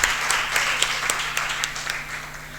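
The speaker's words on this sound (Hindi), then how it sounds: "उस बच्ची के लिए एक बार तालियां बजाएंगे" Audience clapping for a student in a classroom-style session for ICSI CSEET exam instructions, a steady, fairly faint patter of many hands with a few sharper individual claps standing out across the whole span.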